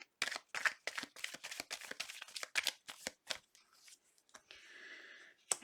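Tarot cards are shuffled in quick, crisp riffling bursts close by, ending in a brief softer sliding sound and a final tap.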